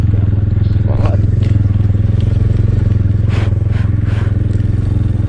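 A motorcycle ride from Deosai National Park toward Skardu begins, and the engine gives a loud, steady, close throbbing drone with faint scrapes and clatter on top and no clear change in pace.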